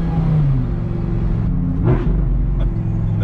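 An Audi R8 supercar's engine rumbles and revs steadily, close and loud from inside the cabin, with a brief rise in pitch near the middle as it shifts down.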